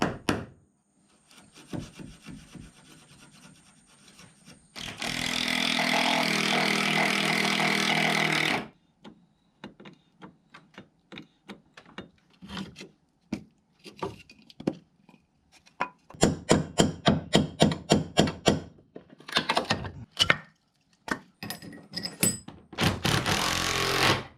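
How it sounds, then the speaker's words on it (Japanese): A wooden floor beam under an old house is bolted down during repairs: a sharp run of clicks and knocks, a sustained buzzing whir from a power tool, then quick bursts of rattling impacts, all close. "ついでに大引きもボルトで留めておきます。"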